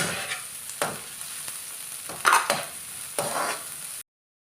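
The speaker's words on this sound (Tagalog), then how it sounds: "Isunod natin yung bawang, garlic." Garlic sizzles in a pan for pancit bato guisado, a continuous frying hiss broken by a few sharp stirring scrapes before it cuts off, with no one talking.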